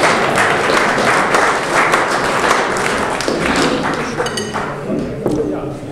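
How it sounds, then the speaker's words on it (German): Audience applause fills the room at a district association's 2023 New Year's reception in Fürstenfeldbruck. Dense, sustained clapping with scattered taps and clinks, loud and close throughout, with some voices mixed in. "Können Sie nochmal klatschen?"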